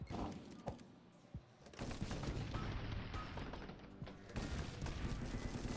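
Rapid bursts of gunfire and mechanical clatter from the Minecraft-based shooter game Cobalt, fairly faint, with a quieter gap before the shooting resumes in dense volleys.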